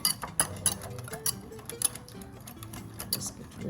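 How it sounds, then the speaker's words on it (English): Milk and flour being whisked for Portuguese custard tarts, with a whisk ticking quickly and rhythmically against the bowl close up. A voice is heard briefly underneath. "it's very important to whisk the milk and the flour"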